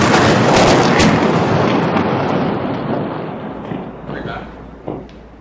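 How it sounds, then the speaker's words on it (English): Artillery shells land in Gaza at night, a dense, heavy rumbling roar of impacts that is loudest at first and slowly fades, with a few sharper distant thuds near the end. "we are hearing artillery shells constantly landing in Gaza tonight"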